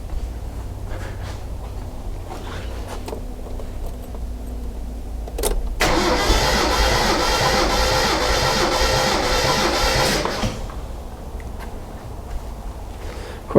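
A RAM 50 engine cranks over on the starter during a compression test on cylinder 1, a loud, steady churning that lasts about four seconds and then stops, with no talking.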